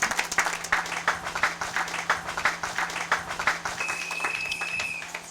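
A church congregation applauds, a dense steady wash of many hands clapping together, fairly close and continuous, with a faint voice or tone rising near the end.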